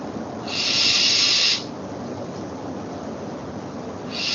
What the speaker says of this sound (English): I'll play the sound made by the owl.